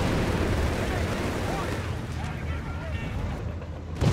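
Grenade blasts in Company of Heroes 3, a World War II strategy battle, come as dense, rumbling bursts within a continuous din of combat, with a louder hit at the very end; a commentator talks over the fighting.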